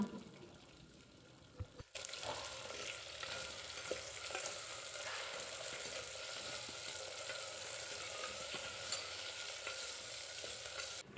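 Steady sizzling of food sautéing in oil in a village clay pot, for brinjal kuzhambu, starting abruptly and continuing evenly, with a few light scraping stirs along the way and no voices.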